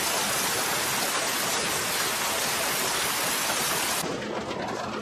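Steady rain hisses heavily and evenly, a dense wash of falling water that softens slightly near the end.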